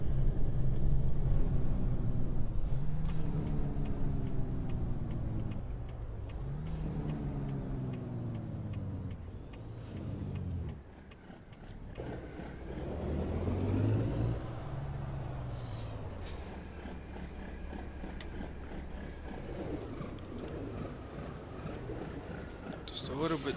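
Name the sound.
W900 truck jake brake, Cummins ISX15, from truck video game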